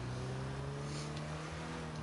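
A car engine in a video game holds a steady, faint hum with a low droning tone, running continuously without a clear rise in revs.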